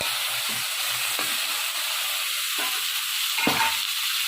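Tomatoes tipped into a pan of frying onions while cooking karela, giving a steady broad sizzle with a few soft stirring knocks, close and fairly loud throughout.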